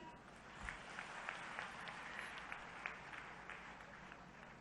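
Soft, scattered applause from an audience at a women's self-help group event in Bhopal after a song, a faint patter of individual claps that stays quiet and fairly even.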